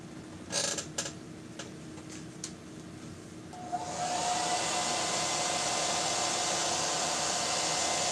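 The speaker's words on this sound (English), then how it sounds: "Let me hit this with the hair dryer really quick." A few clicks and clunks, then a hair dryer switches on and blows with a loud, steady rushing hiss that continues to the end.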